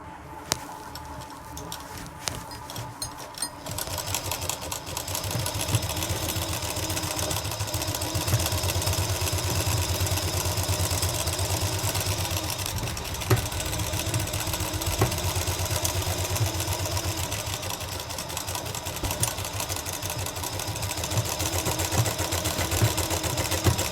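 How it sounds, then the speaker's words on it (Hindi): A sewing machine stitches around the hem of a flared kurti, keeping up a steady, close mechanical whirr with a rapid rhythmic clatter. It runs almost without pause after a brief start. "तो चलिए हम इसके चारों तरफ इसी तरह से सिलाई लगा लेते हैं।"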